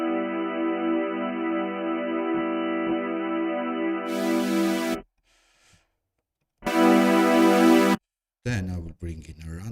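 A sustained synthesizer minor chord rings steadily with rich harmonic tones, then brighter bursts start and stop abruptly before a warbling, modulated passage.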